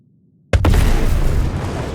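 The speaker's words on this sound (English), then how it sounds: "Ooh, good explosion." An explosion in the space game Star Citizen: a sudden loud blast after near silence, followed by a sustained rumbling roar that stays loud and slowly decays.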